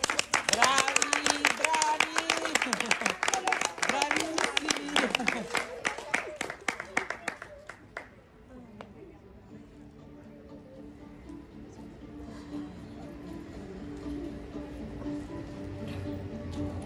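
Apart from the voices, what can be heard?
audience applause of encouragement at school recital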